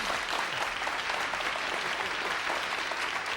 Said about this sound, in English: Let's have a big round of applause for our volunteer.